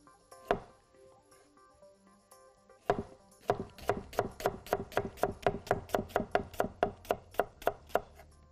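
A knife on a cutting board chops vegetables into thin strips, with a couple of isolated knocks and then a fast, steady run of about twenty crisp, close strokes.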